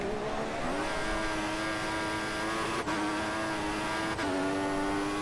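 Grand Prix race cars lapping a wet circuit, a sustained high-pitched engine whine with steady revving and brief gear-change dips, loud and continuous with no voices.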